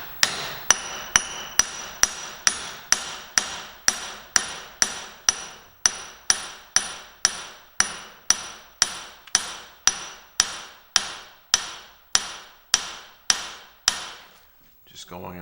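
Steady, evenly spaced hammer blows strike metal while a Homelite T12 transmission is taken apart, about two strikes per second, loud and close, each ringing briefly, with no talk.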